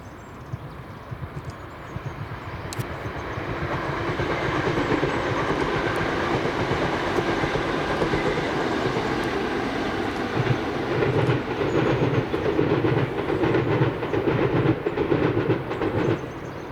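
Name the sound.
ScotRail two Class 320 trains on Motherwell Viaduct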